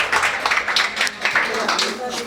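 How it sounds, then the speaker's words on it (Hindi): An audience at a school annual function claps in a brisk, uneven burst of applause for a young girl, fairly close and lasting a couple of seconds, with some voices mixed in. "इस नन्ही बच्ची का एक बार जोरदार तालियों से स्वागत हो जाए।"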